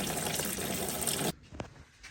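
Cleaner-laced coolant drains from the radiator of a 1990 Mazda Miata, a loud rushing pour that stops abruptly partway through and leaves a few faint drips. No one speaks.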